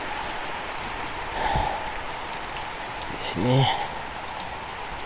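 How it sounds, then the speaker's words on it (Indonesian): Heavy rain falls steadily on an island chalet on Pulau Laki under a dark sky, a dense constant hiss, with brief spoken words breaking in twice. "Hujan lebat, langit gelap."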